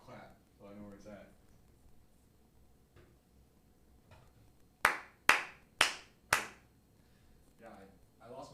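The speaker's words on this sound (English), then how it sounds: "Maybe we should clap so I know where it's at." Four sharp, loud hand claps come in quick succession as an audio sync marker, each one crisp and ringing briefly. Quiet conversational talk is heard before and after.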